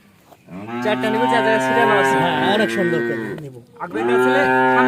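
Cattle on a Bangladeshi farm moo loudly and close by in two long, deep calls, the first sustained for about three seconds before a brief pause and the second starting.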